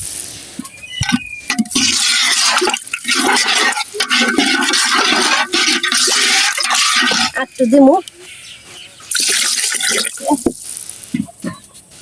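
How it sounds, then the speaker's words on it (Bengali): Water poured into a pot of chicken biryani being cooked, a broad rushing splash that runs steadily for several seconds, pauses briefly, then resumes, with someone talking over it. "পানিটা দিয়ে দিই পরিমাণ মতন পানি দিয়ে দিলাম"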